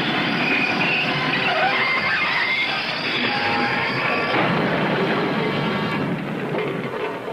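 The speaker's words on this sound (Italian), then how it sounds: "il lucertolone ha rubato un treno della metropolitana!" In a 1981 Spider-Man cartoon, a subway train rolls through a tunnel as a steady, dense rumble with screeching wheels and metallic clatter, loud and continuous.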